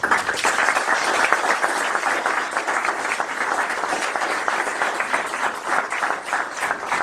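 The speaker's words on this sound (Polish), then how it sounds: "brawa dla, dla, dla siebie, Bogdan, brawa dla organizatorów" A crowd at an award ceremony for a tournament applauds the organizers, dense continuous clapping that holds steady for several seconds with a slight swell and dip.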